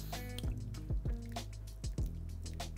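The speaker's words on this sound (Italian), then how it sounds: "Andiamo a versare un po' d'acqua" Hot water poured over a small piece of mozzarella curd while making cheese, a quiet wet scene of several soft drips and squishy splashes over a steady low hum, with no talking.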